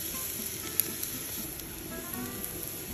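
Garlic sizzles in a tablespoon of oil in a cocotte, giving a continuous close, bright hiss with scattered tiny pops over a few seconds, with no talking.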